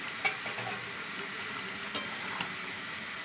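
Sizzling meat in a pan with chopped tomatoes and four green chillies added, a quiet steady frying hiss with a few sharp utensil clicks and scrapes.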